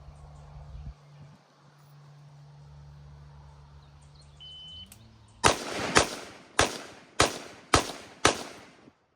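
Six sharp AR-15 rifle shots during a live-fire training session, fired in a quick, fairly even rhythm with hard cracks and short decays, following a few seconds of quiet low hum and a beep.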